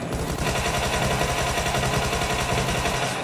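Sustained Tommy gun fire in PUBG Mobile pours out in a rapid, steady automatic burst that runs loud and unbroken for several seconds, dense with rattling reports.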